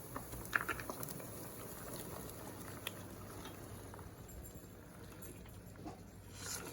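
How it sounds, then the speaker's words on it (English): Water boiling in a pot on the stove while cabbage is cooked, a steady low bubbling and faint patter throughout, fairly quiet, with a few small clinks and no talk. "Now it's boiling, yes."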